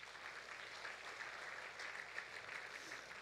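A church congregation applauding after a sermon, a steady, distant wash of clapping that holds evenly throughout at low level.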